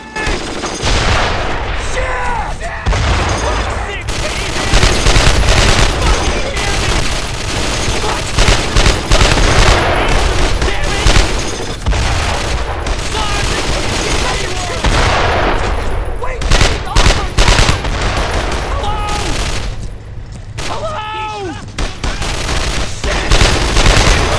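Dense gunfire from the opening fight of the World War II shooter Brothers in Arms: Road to Hill 30, with rifles and machine guns firing nonstop and loud, steady volleys overlapping throughout.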